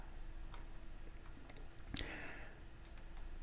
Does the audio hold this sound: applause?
no